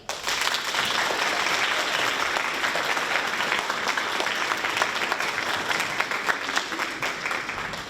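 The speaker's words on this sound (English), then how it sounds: "So this round of applause is from us to you." Sustained applause from a large audience at a middle school spring music festival, dense clapping that continues evenly throughout without any talking.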